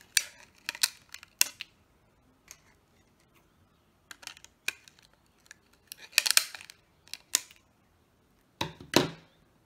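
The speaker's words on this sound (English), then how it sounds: "So just moving my scissors just a little bit back and forth like this" Sharp, dry snips and crisp clicks in irregular bursts, close up, with quiet pauses between them; scissors cutting through thin plastic, no voices.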